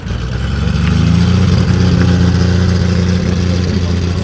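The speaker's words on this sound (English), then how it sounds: "I must say that TR6 sounds nice coming up next door." A Triumph TR6 sports car engine drones steadily at a low pitch while the car drives at a car meet, loud and close, a continuous rumble with a slight rising note.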